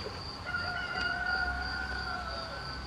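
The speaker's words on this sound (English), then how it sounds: "And their rooster never stop." A farm rooster crows in a long, steady call at moderate distance, its drawn-out tone holding over faint background ambience, with no talking.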